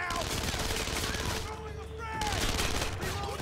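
Enemy gunfire in Splinter Cell: Conviction, a sustained loud burst of rapid automatic shots from several shooters at once, with voices in the background.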